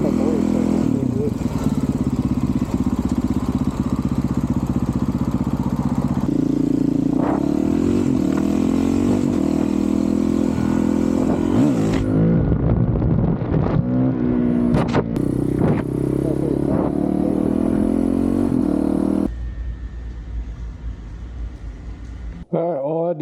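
A Honda CRF450RL motorcycle engine drones loud and steady while riding, its pitch shifting with throttle changes and occasional clattering, before settling lower near the end.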